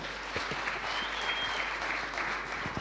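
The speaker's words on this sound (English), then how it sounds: "Let's give her a round of applause, ladies and gentlemen." An audience gives a steady round of applause at a chat event with the founder of The Hustle Academy, dense continuous clapping that holds evenly throughout with no voices over it.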